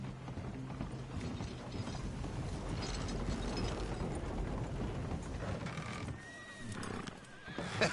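A horse gives a short whinny late in the clip, heard over a steady, rattling mechanical clatter like a cart or gear mechanism.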